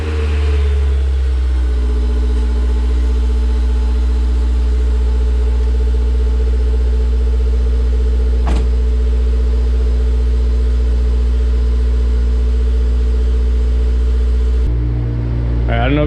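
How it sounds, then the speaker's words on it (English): A car engine cold starting after an exhaust donut gasket repair, settling into a steady, loud idle with a dense low rumble that runs unbroken, a brief click midway and a drop in level near the end. "we'll do a cold start right now and"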